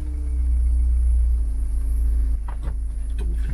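A car rolls past on a road, a low steady rumble that swells and then fades, heard alone without talk.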